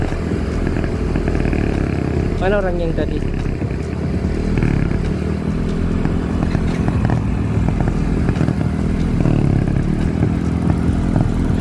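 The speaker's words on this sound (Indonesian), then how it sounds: "naik motor boncengan." Motorcycle taxi carrying a passenger near a border river port, its engine droning loudly and steadily up close throughout, with brief talk partway through.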